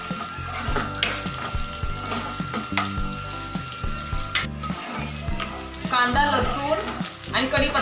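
Chopped onion, garlic and curry leaves fry in a pan with a steady loud sizzle and occasional stirring scrapes, heard under rhythmic tonal background music.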